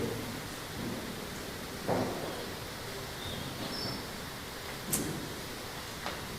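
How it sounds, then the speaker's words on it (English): Rain falling outside during an indoor talk session, a steady broadband wash that stays fairly faint and continuous, with a couple of brief knocks and no speech. "Still raining."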